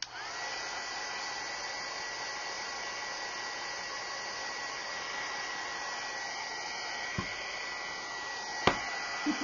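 A hair dryer runs steadily and close by, drying a craft project decorated with washi tape; a continuous whooshing motor hum holds for the whole stretch, with a couple of faint bumps near the end.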